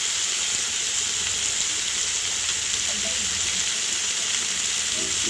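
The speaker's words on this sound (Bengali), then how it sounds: "লুচিটার সঙ্গে সমস্ত কিছু পেঁয়াজ লঙ্কা সব কিছুকে ভালো মতো করে আমি মিশিয়ে নিচ্ছি" Taro stolons with onion and chili sizzle steadily in a hot pan while being stirred, a bright continuous frying hiss with faint scraping, close and even throughout, with no talk.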